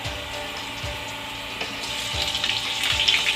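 Sliced potatoes and golden onions sizzle in a pan in a home kitchen, a steady crackling fry with faint rhythmic scraping of a utensil, close and alone.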